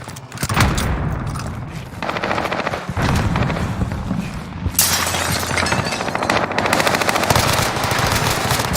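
Sustained automatic gunfire in the video game Rebirth, rapid bursts and shots from nearby and farther off filling the scene, with a loud boom near the middle and continued firing after.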